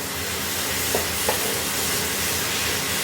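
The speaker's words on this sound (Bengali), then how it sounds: "এইবার আমি ওই মশলাটাকে অ্যাড করে দিলাম। আবার একটু নাড়িয়ে নিলাম।" Spices fry in a pan for a banana flower curry with a steady loud sizzle and hiss, and a couple of faint scraping stirs cut through near the start.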